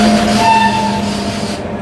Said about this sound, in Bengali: ট্রেন ঢুকে গেল আমাদের জম্বু তাওয়াই এক্সপ্রেস।